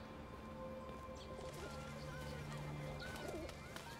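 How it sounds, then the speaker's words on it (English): Pigeons coo softly in an outdoor city street scene in Detroit: Become Human, several low burbling calls rising over a continuous background hum of traffic and ambience. "Good to see pigeons are still looking the same."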